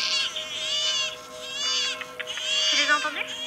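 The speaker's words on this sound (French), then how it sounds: "Écoute, c'est ta nièce qui pleure." A baby crying in a scene with a French-speaking adult, wailing cries rising and falling in long bursts with short gaps, fairly close, over a faint steady hum.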